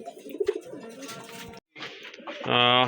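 A pigeon coos at a pigeon farm, low throaty calls that swell into a loud, sustained coo at the end, with someone talking over the earlier part.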